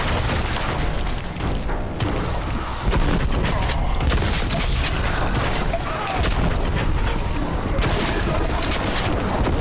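Booming grenade blasts and bursts of combat in a Warhammer game featuring Plague Marines, dense and loud throughout with continuous layered impacts and rumble.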